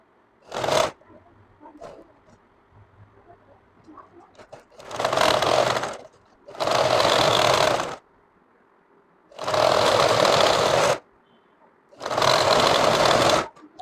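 A sewing machine stitching a sharara salwar in loud mechanical bursts: one short run, then four longer runs of about a second and a half, separated by quiet pauses with faint handling noise.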